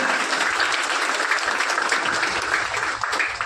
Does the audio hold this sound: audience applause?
yes